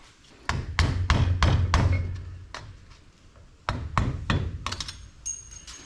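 A hammer drives a screwdriver against the rear universal joint clips of a Jeep Wrangler TJ, producing a quick run of sharp metallic strikes, a pause, then another rapid series of close, loud taps.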